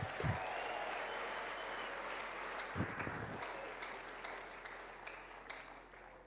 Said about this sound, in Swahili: Na niko na makofi kwa ajili ya Yesu